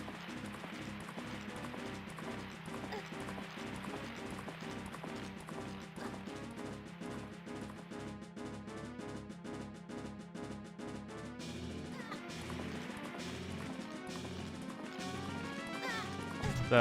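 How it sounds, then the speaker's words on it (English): Epona the horse gallops in The Legend of Zelda: Majora's Mask: fast, steady clip-clopping hoofbeats that run evenly from start to finish. "Epona just ran through a section that has a bunch of jumps"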